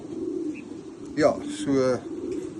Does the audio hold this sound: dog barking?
no